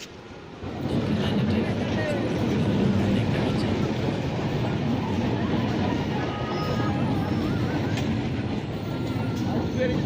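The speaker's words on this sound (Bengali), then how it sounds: "দেখতে দেখতে স্টেশনে ট্রেন ঢুকে পড়েছে" A steady loud rumble and rattle of a crowded local train rolling into a station, continuous throughout with faint crowd noise beneath.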